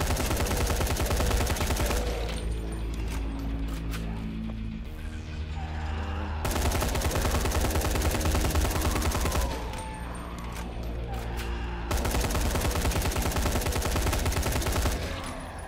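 Sustained automatic gunfire in the zombie game Dying Light The Following, loud and dense bursts of rapid shots with brief lulls between volleys, close and continuous with no talk.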